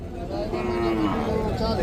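Buffalo lowing at a busy rural livestock market selling desi, Sahiwal, Cholistani and mixed milking cattle, a long drawn-out moo rising over steady crowd chatter and background noise.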